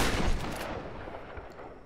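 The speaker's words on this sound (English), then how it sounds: "That's a shotgun entry." A single heavy shotgun blast in the Tomb Raider video game opens loud and close, followed by a long decaying boom and rumbling tail that fades over about a second and a half.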